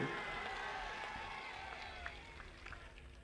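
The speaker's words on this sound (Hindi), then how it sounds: "जोर से ताली बजाओ शिवराम के लिए" Faint, distant applause and crowd noise rise from a large audience at a political election rally in Manawar. The scattered clapping is heard from afar, with a brief voice over it.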